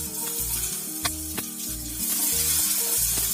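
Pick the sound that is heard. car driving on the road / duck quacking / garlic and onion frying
garlic and onion frying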